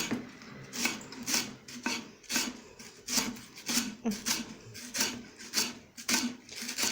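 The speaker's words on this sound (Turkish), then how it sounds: "Hem beyaz tarafını böyle hem de yeşillerini böyle güzelce ne ince bir şekilde doğramak gerekiyor." A knife chops leeks finely on a board, the white and green parts, at a steady quick rhythm of soft, close rasping cuts in a home kitchen.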